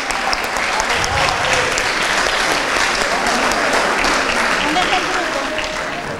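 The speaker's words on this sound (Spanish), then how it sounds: "Un gran aplauso para ese tercer lugar." A crowd at a school fair gives sustained, dense applause for a third-place group. The clapping stays loud and close throughout, with voices and cheers mixed in.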